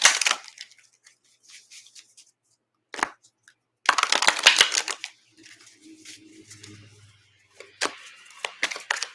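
Tarot cards are handled close up in crisp bursts of shuffling, sliding and flicking, with pauses between them and a faint low hum in the middle.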